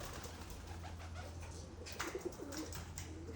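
Pigeons and doves cooing softly at a feeding spot with sparrows and crows nearby, a few brief low coos rising over a steady low hum of background noise.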